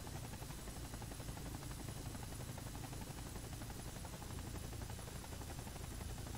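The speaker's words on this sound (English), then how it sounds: "basically I hop in a helicopter and" A Battlefield 2 helicopter drones in a steady, unbroken roar, even in level and fairly quiet throughout, with no voices.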